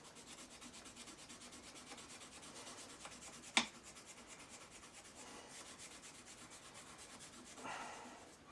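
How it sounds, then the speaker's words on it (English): Very fine sandpaper rubs over the arm of a Garrard RC 75 turntable, giving a faint, continuous rasping scrub with one sharp tick midway and a slightly louder stroke near the end. "this is very, very fine sandpaper, folks"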